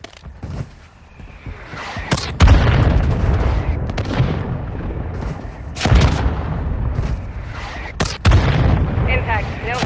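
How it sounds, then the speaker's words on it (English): Mortar strike explosions in the mobile shooter Warzone Mobile, with heavy booming impacts landing near at about 2.5, 6 and 8 seconds over a continuous rumble of game noise and scattered gunfire; a voice talks in between. "Mortar strike inbound now."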